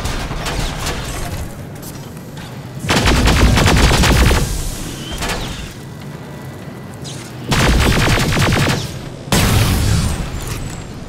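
Bursts of gunfire from weapons in the video game Terminator Resistance: heavy, booming volleys in repeated clusters, loud and close, with rattling shots between them and no talking.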